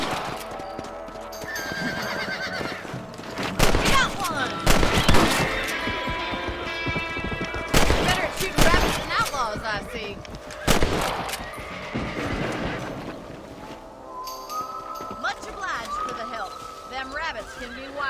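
Rifle shots ring out in a Red Dead Redemption game scene, several sharp loud cracks spaced irregularly among galloping hooves and horse whinnies, with voices talking throughout.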